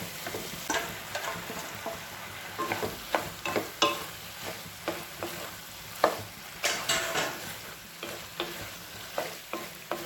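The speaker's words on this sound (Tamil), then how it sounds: "நம்ம வேக வச்சுருக்க இந்த மக்ரோனியை இதில் கொட்டிடலாம்" Boiled macaroni tipped into a hot pan and stirred, a soft frying sizzle broken by repeated close scraping and clattering strokes of the spoon at an uneven rhythm.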